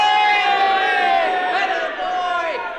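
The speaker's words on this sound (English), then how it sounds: "What's all the cheering about?" A big crowd cheers and shouts on a field as passengers come back from a rocket trip to the moon, a loud sustained roar of voices with rising whoops and yells.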